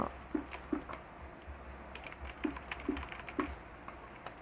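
A computer mouse is butterfly-clicked with two fingers during a Minecraft fast-bridging session, giving quick close clicks in irregular bursts over a faint background hiss.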